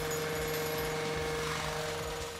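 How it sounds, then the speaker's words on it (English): Power tools run continuously during combat engineering training, a loud steady mechanical drone with a strong tonal hum and rough, juddering vibration throughout, no speech. "Today we've been getting some hands-on experience with the power tools."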